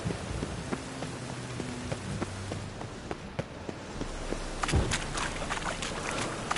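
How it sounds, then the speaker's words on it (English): Steady rain in The Witcher 3 patters on a surface with scattered drips and taps, a soft continuous wash that swells slightly near the end. "Rain again."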